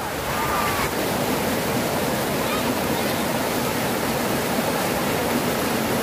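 Water pouring from an overflowing village lake at Pulamithi, a steady broadband rush like a small waterfall that stays loud and constant throughout with no break.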